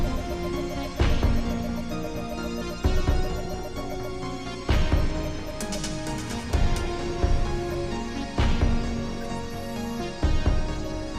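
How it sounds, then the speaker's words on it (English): Synth-heavy background music from the Far Cry 3 Blood Dragon video game, a steady retro electronic track with pulsing bass and regular percussive hits, clear and continuous with no talk. "Now what you're hearing is some actually pretty great music."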